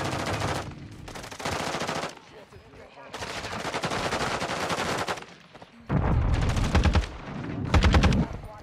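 Bursts of rapid automatic gunfire in the game Call of Duty DMZ, loud and close, coming in several long strings separated by brief pauses, with the heaviest volleys at the end.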